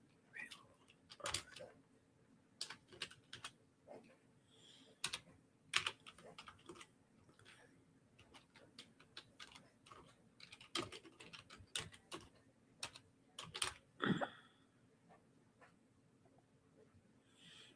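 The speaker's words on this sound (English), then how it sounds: "Now you know how slow I type." Slow, uneven typing on a computer keyboard: sharp individual key clicks spaced out with pauses, close and fairly quiet, with a faint low hum underneath.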